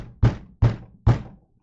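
A voice imitates banging on a front door: three heavy, evenly spaced thuds, close and loud, each ending quickly, with silence after the last.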